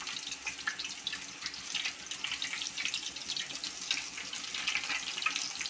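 Sliced potato chips fry in hot oil with a steady, busy sizzle and crackle that holds at an even level throughout, with no talking.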